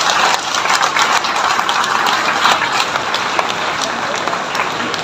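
A workshop audience in Lahore claps steadily and loudly for several seconds, a dense, continuous wash of hands with no pause.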